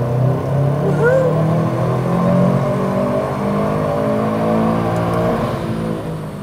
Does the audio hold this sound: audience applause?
no